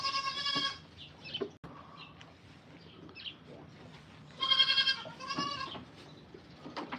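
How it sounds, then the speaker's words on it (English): Goats bleat on a family farm in loud, wavering bursts, one near cry at the start and a cluster of overlapping bleats later, with fainter calls and barnyard shuffling between them. "A bunch of pushy goats."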